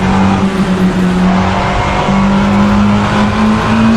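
A racing car engine in the video game Assetto Corsa drones steadily with a high, sustained brake squeal over it, loud and close, with no talking.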